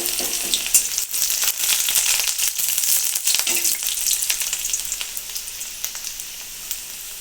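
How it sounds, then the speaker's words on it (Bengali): Chopped garlic frying in very hot mustard oil in a wok over a gas flame, giving a steady, close, crackling sizzle with no talk. "সবগুলো একটু লাল লাল করে ভেজে নেব।"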